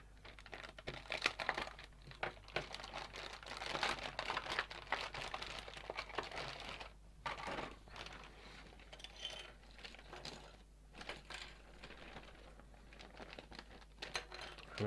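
Plastic packaging of a Routemaster bus model kit being cut open, with close crinkling, rustling and small clicking snips that come in irregular bursts and brief pauses.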